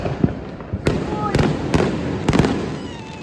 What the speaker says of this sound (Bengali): দেখো এখানে কত বাজি ফাটছে।